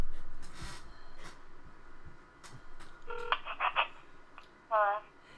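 Telephone keypad tones dialed on a speakerphone: a short burst of several distinct DTMF beeps followed by a brief ring-like tone, under quiet background noise and faint breaths.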